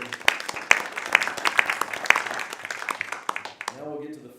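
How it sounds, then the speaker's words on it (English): A small meeting audience at an Audubon society gathering gives board members a round of applause, scattered distinct claps that taper off after a few seconds before a voice begins speaking. "let's give them a round of applause for serving"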